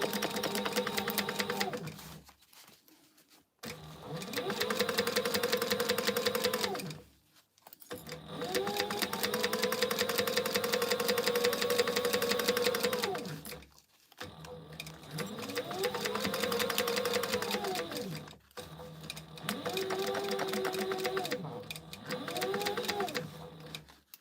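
A sewing machine runs in several long bursts while stitching the seam of a fabric pouch, its motor whirring steadily with short pauses and speed changes between runs, close and loud with no talking.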